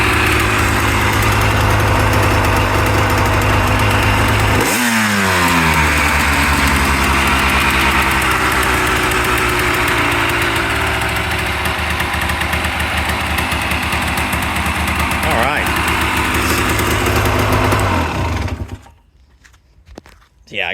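A restored 1985 Honda ATC250R three-wheeler engine idles loudly up close, revving once early, settling into a steady buzzing idle, then cutting off near the end.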